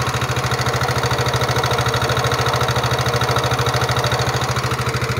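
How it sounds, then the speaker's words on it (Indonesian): A Yamaha NMAX scooter engine idles close by with a rapid, uneven knocking pulse from the main engine, sounding rough and rattly throughout, no voices. "Motor teman-teman NMAX suaranya kasar pada bagian mesin utamanya."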